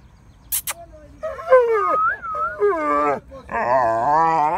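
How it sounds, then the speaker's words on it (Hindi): A sick dog whimpers and howls in drawn-out, wavering whines, close by, with a short high yelp near the start and no talking. "डोगी भी बीमार हो गया है देखिए इसकी आवाज़ कैसे निकल रही है"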